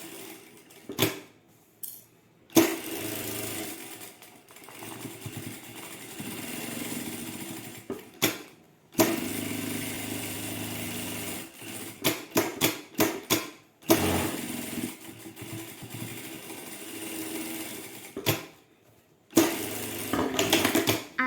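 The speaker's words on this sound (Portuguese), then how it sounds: "Mas eu vou vir aqui e vou passar essa costura de novo todinha inteira." A sewing machine restitches a full seam on tricoline cotton fabric for a small wallet, running in several bursts with short pauses between them, fairly close and moderately loud with no talking.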